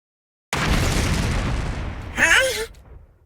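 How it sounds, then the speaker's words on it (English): A bomb implanted in a character's body detonates in a killing-game video game: a sudden, loud blast after silence rolls into a fading rumble, with a short voice cry over the tail. "The sponsor pressed the detonation button for the bomb in my body."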